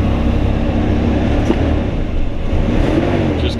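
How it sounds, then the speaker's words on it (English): 1967 Buick Riviera with a 430ci V8 idling after coming down from fast idle, a steady, loud low rumble that stays level throughout, with no voices. "Just came off a fast idle."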